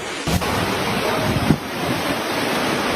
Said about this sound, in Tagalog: ang unang sasalubong sa iyo ay ang maugong na hangin at malakas na ulan